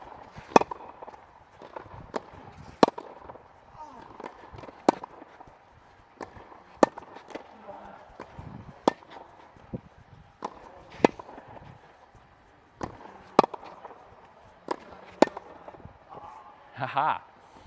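Babolat Pure Aero 98 racket striking tennis balls on volleys, sharp isolated pops recurring every second or so, moderately loud over light court ambience, with a brief voice near the end.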